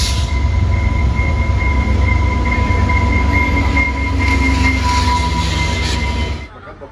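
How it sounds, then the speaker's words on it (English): A Via Rail Northern Quebec train approaches a station with a loud, steady rumble, a deep low roar and faint high whining tones, then the sound cuts off abruptly near the end. "There it is, off in the distance, the fabled Via Rail Northern Quebec train."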